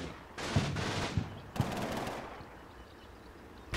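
Gunfire in a WWII strategy video game set in Italy: two bursts of rapid machine-gun fire with a few heavier thuds, fairly faint and distant, trailing into quiet.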